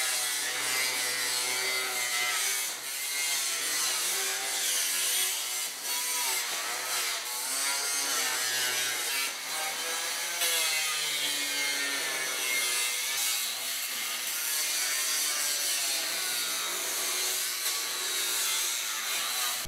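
An angle grinder cuts through lambri paneling along a metal angle guide in a metalworking shop, a continuous loud, harsh grinding whine sustained throughout with no talk.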